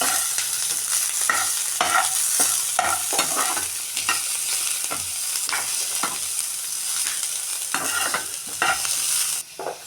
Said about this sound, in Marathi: हाका तेल घालून घेतला. आतां हांव हाका पियाव घालून घेतस. हें आतां भाजून घेवया.